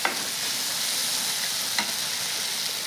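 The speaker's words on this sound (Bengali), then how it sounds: "দারুণ সুন্দর একটা ঘ্রাণ বেরিয়েছে কাঁচকলা চিংড়ি মাছ ভাজার।" Green banana and prawns sizzle steadily in a frying pan, a dense continuous crackle close up with occasional louder pops and stirring scrapes, no voices.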